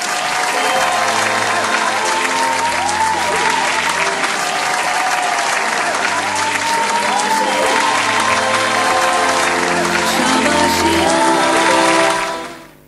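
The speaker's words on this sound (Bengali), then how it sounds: "একবার জোরে হাততালি হয়ে যাবে প্লিজ।" Loud, sustained audience applause fills an awards ceremony hall for a Best Actor in a Comic Role winner, holding steady for about twelve seconds with faint tonal sounds beneath before quickly dying away.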